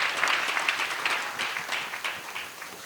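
A church congregation claps and cheers at a worship service, with dense, steady applause and voices rising together in a lively hall.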